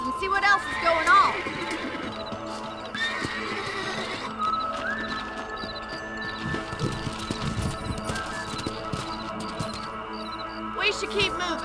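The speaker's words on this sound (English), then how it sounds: "Back on the horses and see what else is going on." Horse hooves gallop rhythmically in Red Dead Redemption under game music and ambient sound, with a horse whinnying near the start.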